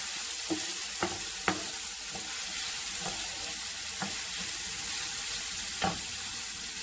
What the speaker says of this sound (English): that's why we are frying the onion